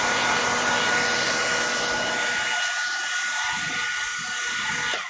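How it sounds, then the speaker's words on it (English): A hair dryer drying acrylic varnish on a painting blows with a steady, loud rushing whir throughout, its tone shifting slightly partway through before it cuts off at the end. "I've got to turn on the hairdryer."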